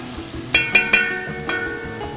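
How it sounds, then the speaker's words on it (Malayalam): Ginger and garlic fry in an uruli, a quiet sizzle broken by four crisp ringing clinks as a metal spoon stirs against the vessel. "ഗാർലിക് ഇളക്കി കൊടുക്കാം അല്ലേ?"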